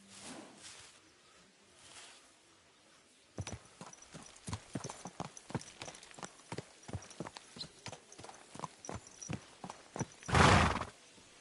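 Horse hooves clip-clop at a steady, close walking rhythm in the video game Kingdom Come: Deliverance 2, fairly faint, with a brief whinny near the end.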